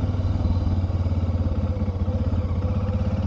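A new rider on a motorcycle through the Cleveland area near covered bridges: a steady, close engine drone with a pulsing low rumble and rattly clatter that carries on throughout, with no talking.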